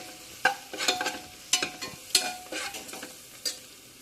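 Sliced onions sauté in a pan with crushed ginger, garlic and green chili for a vegetable biryani, giving a steady sizzle broken by sharp scraping stirs of the spoon against the pan.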